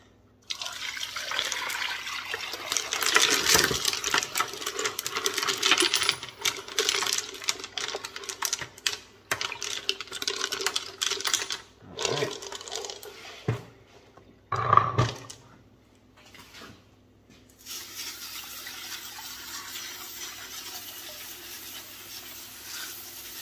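Rocks being washed out of a 12 lb Lortone rock tumbler, with slurry rinsed away under running water and stones clattering and knocking against each other. The sounds are close and continuous, trailing off into quieter rinsing near the end.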